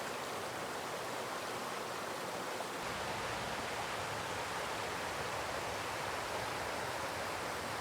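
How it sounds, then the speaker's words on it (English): River flowing through a village in Snowdonia, Wales, a steady broadband rush of running water that holds constant throughout, close and fairly loud, with no voices over it. "river running straight through"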